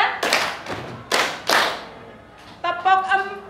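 Students in an Indonesian classroom perform a counted clapping pattern together, delivering loud, crisp unison claps in a short burst sequence, followed by an adult voice speaking.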